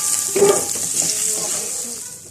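Potato pieces frying in oil in a pan for a spicy zucchini and prawn dish, a soft steady sizzle with a brief louder burst of crackling early on, then settling into a quiet hiss.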